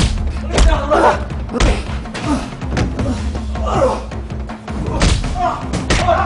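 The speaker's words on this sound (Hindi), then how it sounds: "नईम, मारो साले को।" Repeated heavy thuds of a man being beaten in a Hindi TV drama scene, dull blows landing in a loose rhythm, close and loud, with shouting voices over them.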